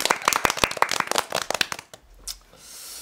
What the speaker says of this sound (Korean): 자 이럴 때 박수!